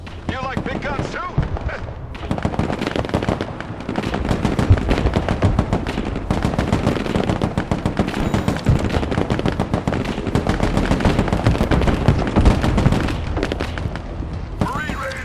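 U.S. Marines firing heavy weapons in the war game Broken Arrow: relentless, loud bursts of machine-gun and cannon fire with booms, packed tightly over fifteen seconds, with shouted voices mixed in.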